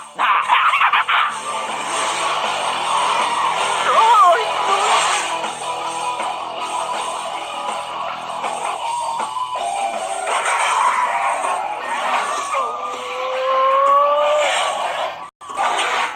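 An old car engine straining through a race, a continuous rough mid-range drone with pitch shifts as it revs, loud and close throughout.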